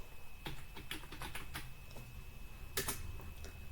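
Keys clack on a computer keyboard while text is entered into an Excel worksheet, a brisk run of light taps followed by a pause and a short cluster near the end, close and clear over a steady room hum.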